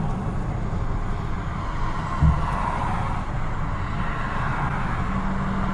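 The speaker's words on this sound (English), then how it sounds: "the traffic is really bad out here today" Heavy road traffic rolling past as a dense, continuous roar of engines and tyres, loud and steady throughout with a brief thump partway through, no voices.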